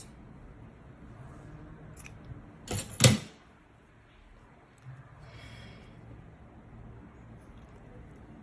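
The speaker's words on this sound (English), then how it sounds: "so I'm gonna cut this." Scissors snipping crochet thread for a tote bag, one or two short close crisp cuts in quiet room tone, followed by faint handling sounds.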